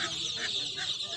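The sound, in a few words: chickens clucking at a poultry market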